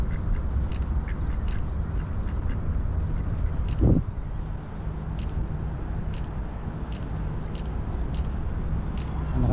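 Outdoors in New Zealand under steady wind rumble, ducks quack in short, scattered calls at mid distance, with one louder thump partway through.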